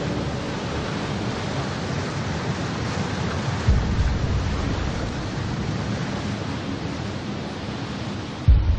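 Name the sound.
tsunami waves flooding nuclear power plant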